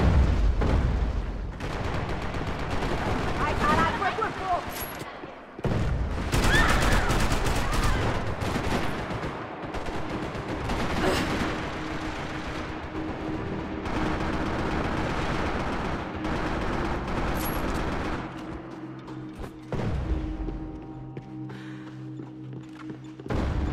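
Video game gunfire from a Max Payne 3 team deathmatch on Xbox 360, a dense run of shots and bursts with occasional thuds, fairly continuous with brief lulls.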